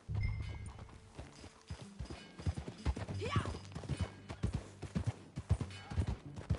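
Horse hooves clip-clop in a video game, an irregular run of moderately close hoofbeats at a walking pace with a faint whinny midway and a brief spoken word.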